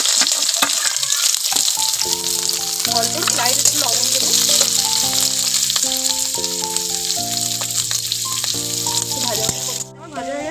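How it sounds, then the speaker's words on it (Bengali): Capsicum and carrot frying in ghee in a pan for fried rice, a steady loud sizzle running throughout while music plays over it and a voice speaks briefly. "ক্যাপসিকাম আর গাজরটা আমি একসঙ্গে ভেজে নেব।"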